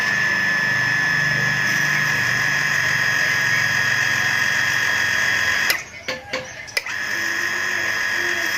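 Automatic household water pump running steadily after repair, a loud continuous mechanical drone with a high whine, briefly interrupted by a few clicks and knocks near the end before the hum resumes.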